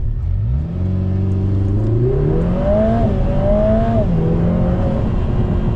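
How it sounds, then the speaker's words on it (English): A 2024 Lotus Emira with a 2.0-litre turbo, mid-engined, pulls away at full throttle in automatic mode with traction control off, its engine note climbing steadily through rising revs and a gear change, loud and close from inside the cabin. "I'll just floor the throttle."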